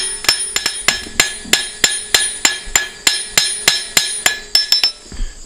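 A blacksmith hammers a hot metal leaf flat on an anvil, about twenty bright ringing strikes in a steady, even rhythm, close and loud with no talking.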